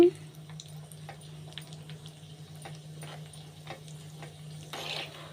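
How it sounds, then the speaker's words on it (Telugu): Raisins frying in a hot pan for poha ravva laddu, giving a faint, steady sizzle with scattered light crackles and a low steady hum beneath. "ఇప్పుడు కిస్మిస్లు కూడా వేసేసుకుందామండి కిస్మిస్ తొందరగానే వేగిపోతుందండి"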